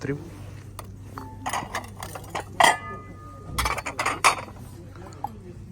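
Five small 17 cm porcelain plates clink and knock together in a series of sharp, close chinks and rattles, with some handling noise between.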